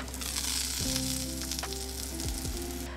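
Sweet potato pieces fry golden in a pan for a Japanese home-style meal, giving a close, steady, continuous sizzle with faint tonal hum in the background.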